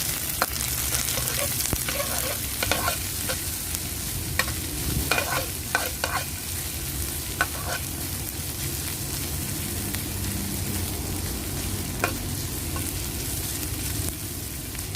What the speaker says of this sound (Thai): แม่ลุงก็จะเจียวเป็นหอมค่ะ